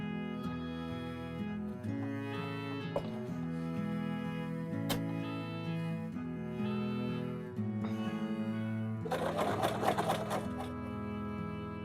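A vintage knitting machine knits long wool socks with a steady mechanical whir and a regular ticking clatter. Louder rattling carriage noise swells near the end. No one speaks.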